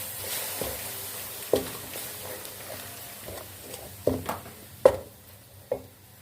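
A spoon scrapes and clacks against a pan while turmeric and Kashmiri red chilli powder are mixed for a chicken keema dish, giving sparse irregular knocks over a soft, faint sizzle, with no talk.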